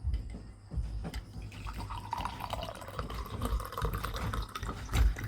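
Warm water poured into a glass while preparing a home cough remedy, a steady liquid trickle and splash running throughout, fairly close and moderately loud with no talking.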